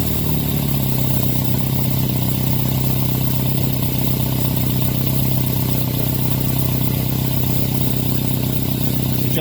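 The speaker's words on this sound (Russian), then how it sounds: "Этим винтом ловите обороты двигателя нормальные, чтобы он работал стабильно" A small-displacement car engine running on LPG gas equipment idles steadily and loud, a continuous low drone close by as the idle screw is set, with no talk over it.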